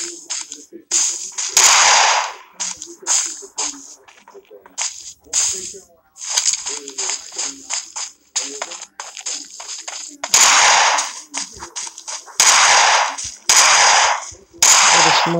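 PUBG Mobile gunfire comes in sharp, loud bursts and single shots separated by short gaps, with quieter game sounds in between.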